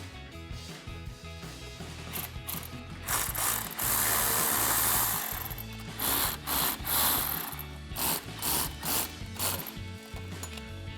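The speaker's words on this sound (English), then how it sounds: "we'll go ahead and tighten that down with our 8mm socket" A ratchet with an 8mm socket tightens the intake coupler clamp on a 2018-2023 Ford Mustang during a K&N Series 57 cold air intake install, giving rapid, close, rhythmic clicking in several continuous bursts without talking.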